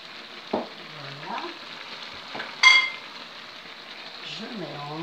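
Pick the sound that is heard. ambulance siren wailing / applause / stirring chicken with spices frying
stirring chicken with spices frying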